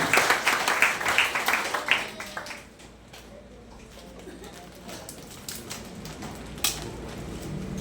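An audience at a sermon claps in a quick burst of clustered claps that dies away after about two seconds, followed by quieter room noise with scattered faint sounds and a lone sharp knock later on.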